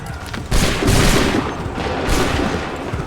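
A musket volley crashes out in a line-battle video game, with two broad, loud rolling bursts of massed gunfire about a second and a half apart over a constant din of battle.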